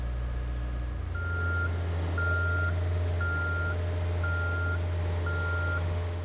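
A boom lift drives along with its motion alarm sounding five evenly spaced, steady beeps over a constant low engine hum.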